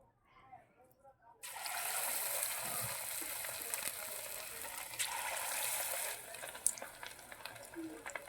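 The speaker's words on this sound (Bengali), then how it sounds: "এবার আমরা চিলি চিকেনের পকোড়াটা ভেজে নেব। আমরা কড়াইতে তেল দিয়ে গ্যাসে বসিয়ে দিয়েছি, তেল গরম হয়ে গেছে।" Marinated chicken pakora pieces hit hot oil in a kadai on a gas stove for chilli chicken: after a quiet moment, a loud sudden sizzle erupts and keeps up as a vigorous, crackling fry.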